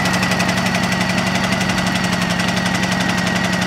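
Small pull-start gasoline generator used for charging batteries runs steadily at close range, a constant loud mechanical drone with a knocking, vibrating engine pulse and no talk over it.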